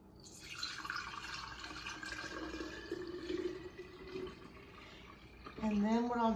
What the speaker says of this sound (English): And then I'll just pour it on in here.